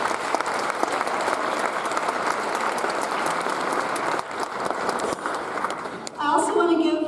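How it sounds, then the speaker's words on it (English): An audience at a university psychology department recognition ceremony claps in sustained, dense applause that fades, then a voice cuts in near the end. "Let's give them a hand, too."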